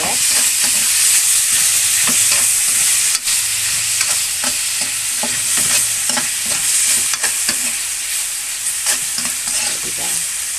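Mung bean stew with pork is stirred in a sizzling pan, a loud continuous frying hiss with repeated scraping strokes of the spoon, close up and without talking.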